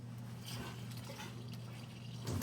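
Water runs back into a refilled reverse-osmosis filtration system after the supply is turned on. A faint, steady hiss of flow sits over a constant low hum, with a slight swell at the very end.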